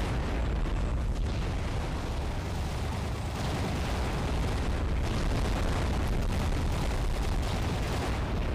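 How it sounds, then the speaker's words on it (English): Dense, continuous rumbling blasts and booms from explosions in the game Aquanox, loud and sustained with no pauses, filling the whole stretch. "The explosion's loud again"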